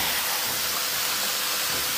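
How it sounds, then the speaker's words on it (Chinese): Squid fries in a pan with a constant, loud broadband sizzle, close up and unbroken. "来开始煎鱿鱼"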